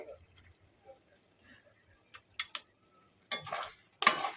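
A tomato drops into hot spiced oil in a pan while cooking a topse fish tel jhal, setting off two loud, bursting sizzles near the end after a quiet stretch of faint clinks.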